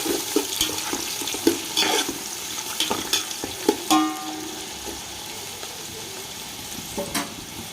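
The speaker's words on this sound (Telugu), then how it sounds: "చూడండి ఆనియన్స్ అయితే బాగా ఫ్రై అవుతున్నాయండి" Onions sizzling and frying in a hot pan for egg biryani, a steady low crackle broken by repeated stirring scrapes and clinks, close and fairly quiet, with no talking.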